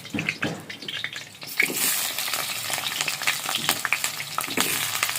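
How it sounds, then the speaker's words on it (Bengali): New potatoes fry in hot mustard oil with a loud, close, continuous sizzle that swells after a moment, broken by frequent scraping and clinking stirs. "এবার আলুগুলোকে ভালো করে ভেজে নিতে হবে।"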